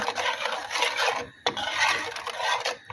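A spoon scrapes and stirs sugar through kangkong in a pan, with continuous close rasping strokes and a brief pause midway.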